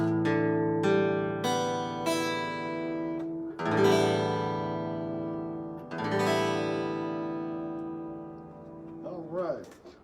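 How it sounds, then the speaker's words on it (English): Guitar's six open strings plucked one at a time, each ringing out and decaying, with some notes struck more firmly than others and a faint fumbling sound at the end, close and clear. "Alright, so your guitar should sound like this, all your open strings."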